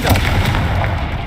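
A Confringo fire spell in the Hogwarts Legacy video game goes off as a single loud, booming blast that rumbles with deep low end and fades briefly, with no talking over it.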